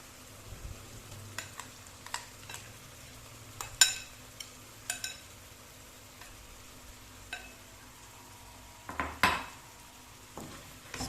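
Potato filling being mixed in a pot, with scattered clinks and scrapes of a spoon against the metal, some sharper knocks, over a low steady kitchen hum.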